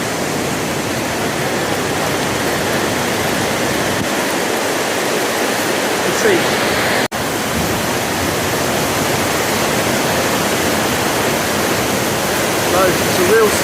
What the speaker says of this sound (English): So it's a real storm, you can hear.